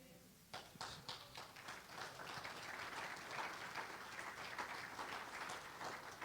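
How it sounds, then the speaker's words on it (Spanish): A church congregation claps steadily for several seconds, with a thick, sustained wash of hands that starts quickly and carries on at an even level, no talking. "Gloria a Dios por ese aplauso que fue para Dios"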